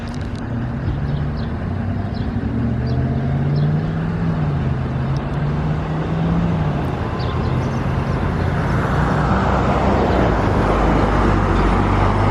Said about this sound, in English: School bus flybys.